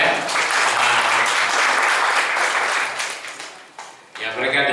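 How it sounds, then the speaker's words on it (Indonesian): A church congregation claps for visitors from Palembang: dense, loud applause that holds steady, then thins and dips before a brief final burst. "Beri tepuk tangan buat mereka ya."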